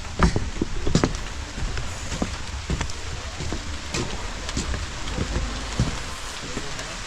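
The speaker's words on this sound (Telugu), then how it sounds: "ఆల్రెడీ వర్షం అయితే ఫుల్ పడుతుంది" Heavy rain falls on a coffee plantation in Araku Valley near a wooden bridge, a dense, close, steady patter with scattered louder drops throughout.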